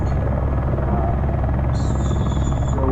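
Eurocopter AS350 Ecureuil helicopter in flight, its rotor and turbine making a loud, steady, continuous drone throughout, with a higher whine joining in partway through.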